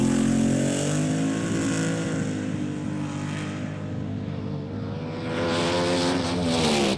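A 1970s rear-engine top fuel dragster roars down the strip while smoking its tires, a loud sustained engine howl that dips slightly midway and swells again near the end.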